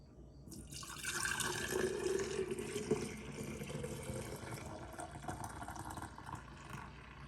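Homemade elderberry syrup pours into a clean glass jar in one steady, continuous liquid stream lasting several seconds, close and fairly quiet.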